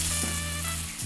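Ratatouille with freshly added tomato hisses in a hot pan while being stirred, a brief, even, close sizzle with no voices.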